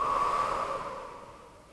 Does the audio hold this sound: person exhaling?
yes